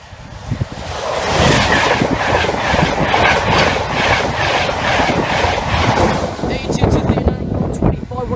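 Class 90 locomotive 90107 hauling a King's Cross to Edinburgh Waverley service roars past close by, a continuous loud rush with rhythmic rail clatter and wind buffeting, easing slightly near the end.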